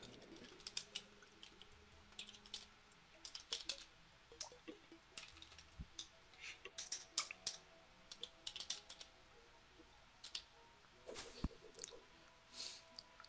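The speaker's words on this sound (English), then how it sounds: "I hear you typing." Steady computer keyboard typing in irregular bursts of soft clicks, fairly close, with a few louder knocks and no talking.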